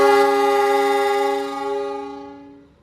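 A long, harmonic horn blast from a Logawa economy-class passenger train pulling out of a station in Java, sounding steady and strong, then wavering and fading away as it ends.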